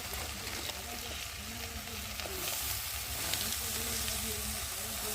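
Malabar spinach stems stir-frying with vegetables, a dense, even hiss of sizzling oil that swells slightly midway, with faint stirring scrapes underneath.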